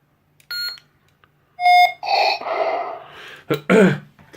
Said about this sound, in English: This one is R1 by, I think it was Lord Blako for Vader's Rogue One sound font.